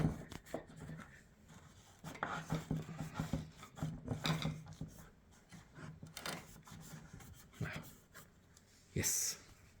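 Cleaning the casing of a Mercedes C-Class W204 xenon headlight produces quiet, close, irregular rubbing and scraping strokes with brief pauses and a sharper scratch near the end, under intermittent talking.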